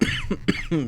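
A few short, harsh coughs in quick succession, close and fairly loud, with a throaty, voiced quality.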